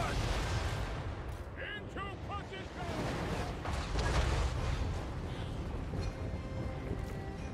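Artillery fire in the Total War: Warhammer 3 video game, heavy booming blasts rolling over dense battle noise with a brief high whistling sound early on, loud and continuous.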